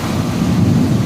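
Heavy rain pours down during flooding, a steady, loud, dense roar of falling water that fills the whole clip without a break.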